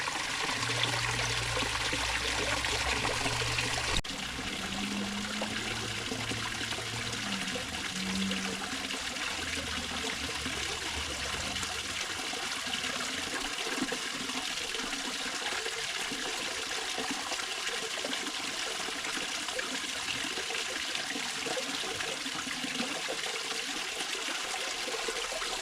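Water trickles and splashes steadily over a newly concreted waterfall in a restored Japanese Zen garden, a continuous close wash with a low hum early on, and no voices.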